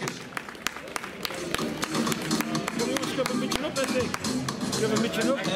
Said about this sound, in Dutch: Mag ik u applaus voor de nummer 3, Rutger Wouters.